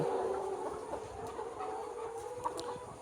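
Pullet layer chickens on a poultry farm cluck softly and sporadically over a constant low mechanical hum in a shed.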